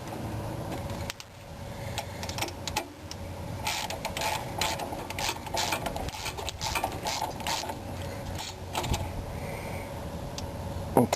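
A tool clicks and ratchets in short bursts as the bottom bolt of a front shock absorber is screwed in on a 1984–1991 Mercedes, with a close, even mechanical rattle and no voices.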